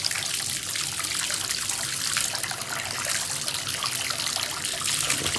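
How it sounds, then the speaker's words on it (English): Hot water running steadily from a tap after a tankless Navien water heater repair, a loud continuous splashing hiss without pause or voices. "And I've got constant hot water now."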